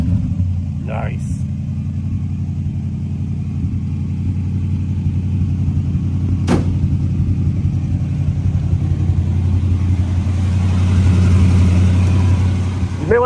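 A 1971 Oldsmobile Cutlass S with cherry bomb mufflers idles with a deep, steady exhaust rumble, close and continuous, swelling slightly near the end.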